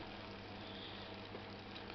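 Water poured over already-fried ingredients for a leftover soup is brought to the boil in a pot, giving a steady, dense bubbling hiss with no talk.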